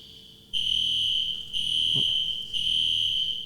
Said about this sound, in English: Who pulled the fire alarm?